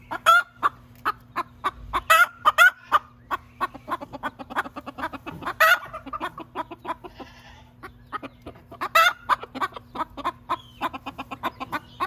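Chickens clucking and squawking in a backyard coop during a 2021 Oklahoma City blizzard, a steady run of close, repeated clucks with several louder cackling bursts, one hen having just laid an egg.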